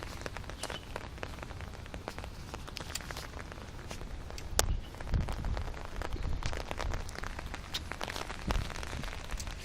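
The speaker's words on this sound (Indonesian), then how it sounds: "Di tempatku hujan." Rain falls steadily in Kaohsiung, Taiwan, a dense continuous patter with scattered nearby drips and occasional heavier splashes.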